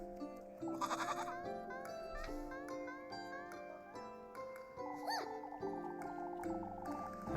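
A goat bleats in a video game, its cries repeating over layered in-game music and sound effects.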